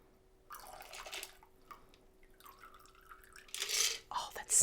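A smoked old-fashioned cocktail is poured over ice, giving short splashing and trickling bursts that build toward a louder pour at the end, close to the listener.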